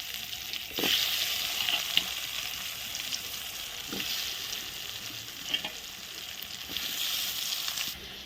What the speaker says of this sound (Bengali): শুকনো লঙ্কা জিরে ভাজা হয়ে গেছে এখন দিয়ে দিচ্ছি আলুগুলো